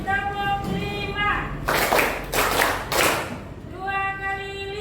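Schoolchildren in a class doing a counting clap game, giving a few bursts of brisk group claps between stretches of a teacher's speech.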